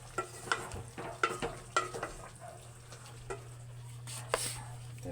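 Pork menudo being stirred in a frying pan, with a steady sizzle underneath a handful of sharp scraping stirs near the start and another near the end, no talking.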